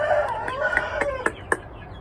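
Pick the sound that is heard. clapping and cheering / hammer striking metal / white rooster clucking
white rooster clucking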